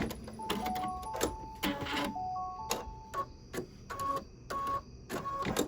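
A home embroidery machine stitching a Halloween quilt block, rapid mechanical ticking and clicking bursts with brief pauses and thin whirring tones, fairly close and continuous without talk.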